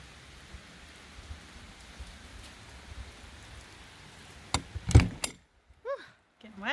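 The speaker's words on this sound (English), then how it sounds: "It's been raining for about 15 or 20 minutes." Rain falls steadily on an RV motorhome roof as a soft continuous patter. A few loud knocks and rustles near the end cut it off, leaving near silence with brief voices.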